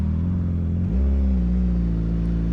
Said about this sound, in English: got a car coming from that way